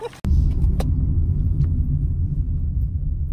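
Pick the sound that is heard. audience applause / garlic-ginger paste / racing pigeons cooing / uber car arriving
uber car arriving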